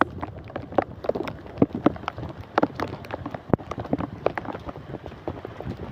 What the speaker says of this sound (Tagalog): Inabot ng ulan dito sa amin.